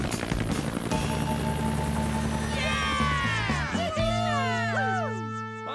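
Cartoon helicopter landing, a steady rotor chop with a whirring tone that winds down, followed by squeaky, swooping cartoon sound effects near the end.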